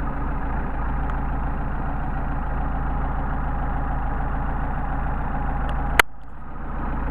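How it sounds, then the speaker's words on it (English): A Mercedes 190SL engine with Solex carburetors idles low and steady, a close rumbling drone, until a sharp click near the end briefly cuts it and the tone dips. "how low we can get the engine to idle"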